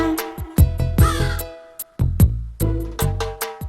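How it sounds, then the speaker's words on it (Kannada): A cartoon crow in a Kannada children's animation caws repeatedly, loud and close, in a run of harsh, evenly spaced calls with short gaps between them. "ಕಾಗೆ ಕಾಗೆ ಗೂಡೆಲ್ಲಿ, ಗೂಡಿನ ಒಳಗೆ ಮರಿ ಇದೆಯಾ?"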